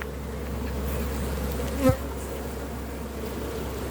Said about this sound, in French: il y a pas mal d'abeilles qui rentrent là